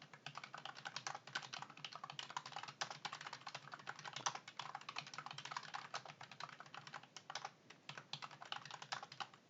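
A computer keyboard is typed on in quick, continuous bursts of close, crisp keystrokes with Enter presses, fairly quiet and with no voices.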